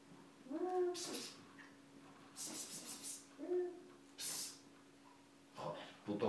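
A cat meows a few times indoors, the calls fairly close and spaced apart, with a steady low hum underneath and brief rustling noises between them.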